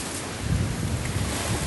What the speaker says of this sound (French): au bord, les vagues comme ça, on a du mal à les contrôler